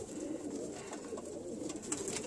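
Breeder cock pigeons coo steadily in a loft, a continuous close chorus of soft rolling coos with occasional wing or shuffling sounds and no talk.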